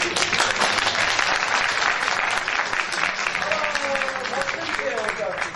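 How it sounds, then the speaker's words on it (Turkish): Lively audience applause at a stage performance, dense steady clapping filling the room, with a performer's voice rising over it toward the end. "Alkışlarınız, alkışlar, bu kadar alkış yetmez"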